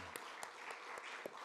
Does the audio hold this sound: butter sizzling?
no